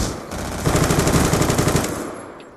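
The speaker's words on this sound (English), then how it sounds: "Death machine spinning up." The Death Machine minigun in Black Ops 2 fires a loud, sustained burst of rapid, evenly spaced shots lasting about two seconds before trailing off, with no talk over it.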